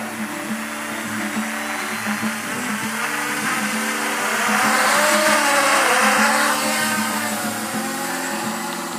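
A HiSky HMX280R Talon quadcopter flying in acro mode gives a steady, close electric motor whine that swells louder and higher in the middle of the flight, then settles back, with no voices.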